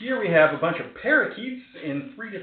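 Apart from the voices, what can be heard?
None of the usual background noises is heard.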